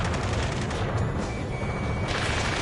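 Gunfire in the combat flight game Ace Combat 7 rattles as a dense, continuous burst of shots with booming low rumble throughout, no voices.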